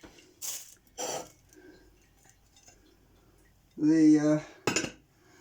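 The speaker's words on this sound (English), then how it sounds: "Put the lid on." An old English-made Pyrex glass lid is set onto a cooking pot, giving a few sharp glassy clinks and knocks close by, with a short vocal exclamation in between.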